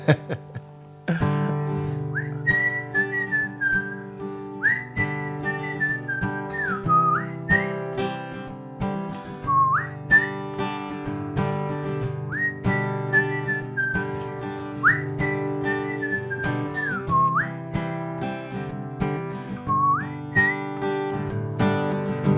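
A person whistles a melodic tune before a poem reading, clear and close, with repeated phrases and sliding pitch bends over a steady instrumental backing, and no talking.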